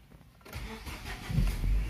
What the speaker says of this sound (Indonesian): Nah, mesinnya udah hidup ya.